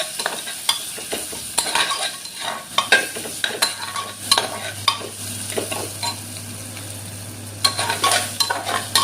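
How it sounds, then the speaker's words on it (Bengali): Whole spices including cinnamon fry in oil for mutton biryani, a steady crackling sizzle with repeated scraping stirs of a utensil against the pan, close and prominent, with a low hum beneath and no talk. "সব দিয়ে ভালো করে এগুলো ভাইজা নিই"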